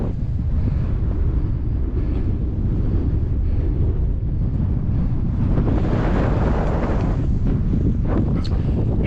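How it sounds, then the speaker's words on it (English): Strong, constant wind roars and buffets the microphone near the summit of Beinn Ime, a loud, unbroken rumble with gusts swelling toward the end. "it's blowing a hoolie"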